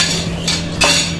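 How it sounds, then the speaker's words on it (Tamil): A spoon stirs egg omelette gravy in a metal pan, giving a couple of scraping clinks against the pan over a soft background hiss, close and fairly loud, with no one talking. "லைட்டாக அப்படி கிண்டி வைக்கணும்"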